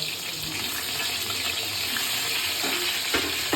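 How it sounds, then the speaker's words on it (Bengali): Sliced eggplant frying in a pan of hot oil for a home-cooked hilsa fish dish, a steady broadband sizzle and crackle running throughout, fairly close and even in level, with a few soft clinks near the end. "বেগুনটা ভেজে নেবো"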